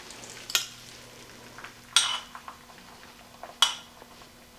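Butter frying in a pan for a carnivore-diet breakfast, a steady soft sizzle broken by three sharp scraping stirs, close and fairly quiet with no talk.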